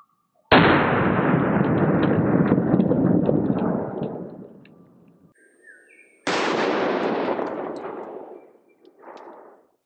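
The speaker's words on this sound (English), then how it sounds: "a 260 grain bullet coming out of my 8-inch Smith & Wesson 460 Magnum" Two heavy booms from an 8-inch Smith & Wesson 460 Magnum revolver firing 260-grain bullets at a lightweight Level IV armor plate, each a sharp loud blast with a long decaying rumble, the second following several seconds after the first.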